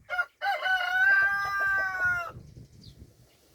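A rooster crows loudly and close, one long strained call among Cochin and ordinary chickens, followed by softer low clucking and shuffling in the coop.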